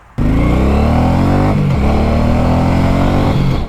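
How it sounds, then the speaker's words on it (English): A Suzuki M109R Boss Edition motorcycle engine revs loud and close, climbing steadily, easing off briefly, then rising again before cutting off. "This is a Suzuki M109R b.o.s.s edition"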